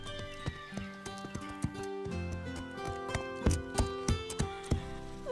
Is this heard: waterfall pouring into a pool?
no